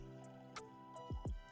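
Liquor is poured into a glass in a few quick, faint splashes and drips, close and quiet, ending in two short gurgling glugs.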